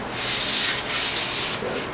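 Sandpaper rubbing on an old wrought iron yard sign post in steady back-and-forth strokes, a close, loud, hissing scrape repeated about three times with no talking.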